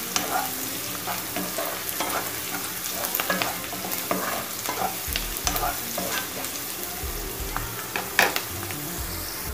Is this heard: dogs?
no